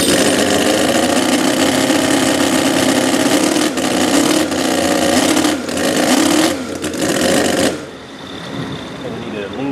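A Stinger 609 engine on a 1/4 scale Grave Digger monster truck runs loud and steady with a buzzy, sewing-machine-like drone, dips and wavers several times, then drops lower near the end as it is tuned at a tailgate; people talk over it.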